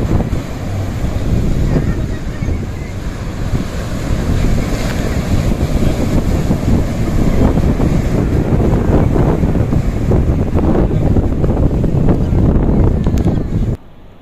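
Sea waves and strong wind at Digha beach make a loud, continuous roar of surf, heavy with wind buffeting on the microphone, that cuts off abruptly near the end.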